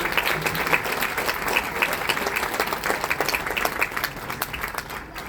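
An audience bursts into sustained applause at a cultural event, many hands clapping together in a dense, even roll that stays steady for several seconds with no talking.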